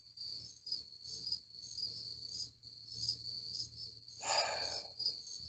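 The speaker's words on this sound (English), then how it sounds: "I can hear the crickets in the background." Crickets chirp steadily in the background, a continuous high trill that pulses evenly throughout, with a brief rustling burst partway through and no voices.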